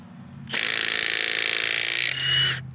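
A Milwaukee M18 FUEL impact driver fitted with a Snap-on socket loosens a bolt with a loud, close, buzzing hammering that lasts about two seconds. The tool swells briefly near the end, then stops.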